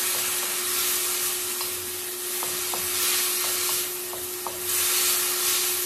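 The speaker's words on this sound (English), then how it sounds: "sizzle that allspice" Continuous sizzling hiss of allspice frying with a splash of water in a hot pan, steady and close, with a few faint clicks and stirring sounds, no talking.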